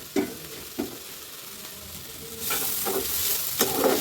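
Spices with chopped garlic and ginger fry in hot oil while they are stirred, giving a steady sizzle. A few sharp scrapes or taps of the spoon stand out, and the sizzle grows louder and brighter in the second half. No one speaks.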